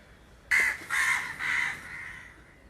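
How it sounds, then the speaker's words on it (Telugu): Crows in a village give three harsh caws in quick succession, moderately close and clear over quiet background hiss, with no talking. "మా ఊర్లో కాకులు ఎక్కువండి."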